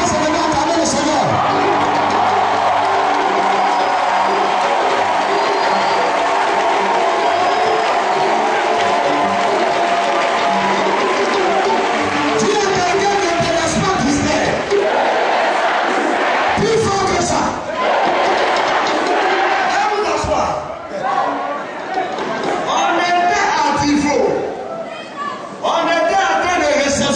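Church congregation at an Easter Sunday service rising to acclaim the Lord, a loud continuous crowd roar of shouts, whoops and cheering sustained throughout, dense and close, with voices mixed in.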